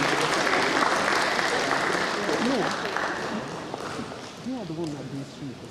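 Audience applause at a Nigerian pharmaceutical manufacturers' program as an official comes on stage, a sustained round of clapping that gradually fades, with a voice speaking over the later part.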